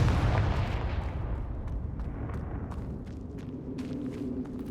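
Repeated Confringo fire spells blasting in Hogwarts Legacy, a dense rumbling wash of explosive booms with crackling debris that holds loud and steady throughout.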